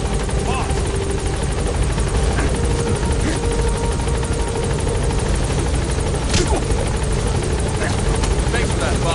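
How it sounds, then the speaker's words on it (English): Helicopter rotor and engine drone from the video game Metal Gear Solid 5, a steady loud broadband roar filling the whole stretch, with faint voices and game sounds over it. "Board the chopper when you're ready for the mission."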